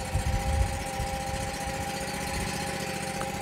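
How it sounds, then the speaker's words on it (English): A small engine on an SWC 100 portable sidewall cutter idles steadily to warm up, a close, continuous low rumble with an even rhythmic chug and no talking. "let it idle for about a minute. I let it idle to warm up."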